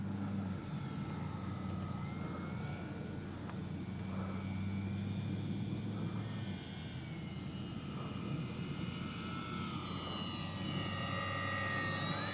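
An Avios Twin Otter RC model plane flies slowly with its landing flaps down, giving a steady, continuous motor drone and whine that holds at an even level throughout.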